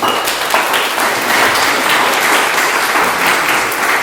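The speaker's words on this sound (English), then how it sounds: "If y'all give them a round of applause." An audience at a town candidates forum applauds candidates being introduced, sustained dense clapping from a roomful of people, loud and even throughout.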